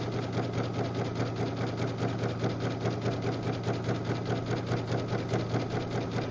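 A sewing machine runs continuously, joining rug strips from a jelly roll, a loud, even, rapid mechanical whir with a steady rhythmic chatter and no pauses or talking.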